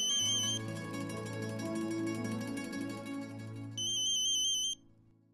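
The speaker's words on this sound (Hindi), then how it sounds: "आपका फोन बज रहा है" A phone rings indoors with a bright electronic tone over a layer of background music, the ringing starting and stopping in bursts and ending abruptly.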